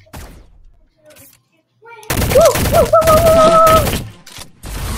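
Rapid gunfire from the Tryhard gun in the Shell Shockers online shooter game, a loud dense burst of shots after a quieter start with scattered game sounds, with a voice and game tones overlapping.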